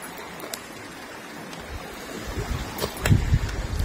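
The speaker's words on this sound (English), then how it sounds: "Got Babbling Brook." Steady outdoor rush of a babbling brook at Canyon Falls in Michigan's Upper Peninsula, a broad continuous wash of flowing water heard from nearby, with a few soft bumps and gusts toward the end and no talking.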